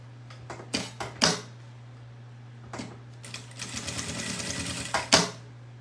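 A sewing machine runs in short, close bursts of rapid clattering, then in one longer sustained run as it stitches a seam on a fabric necessaire box.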